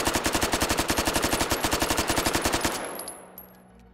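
Full-auto gunfire in the VR game Hot Dogs, Horseshoes & Hand Grenades: a rapid, evenly spaced burst of loud shots lasting under three seconds, then a fading echo and a few faint clicks, with no voices.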